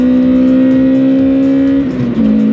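A four-cylinder car engine revs hard and steadily with a strong, even drone, then the pitch wavers and dips briefly near the end before climbing again.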